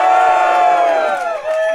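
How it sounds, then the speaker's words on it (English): An audience at a live interview event screams together in one loud, sustained shout of many voices that holds for nearly two seconds before tapering. "let's do one big scream to get ourselves ready to scream some more"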